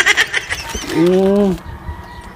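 A chicken gives a short drawn-out cluck near the middle, close and fairly loud, amid brief rustling and background voices.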